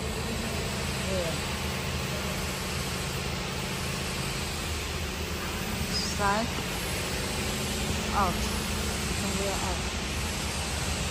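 A paper cross cutting machine runs steadily in a production workshop, a loud continuous mechanical drone with blower noise and faint periodic clicks, while someone speaks briefly over it.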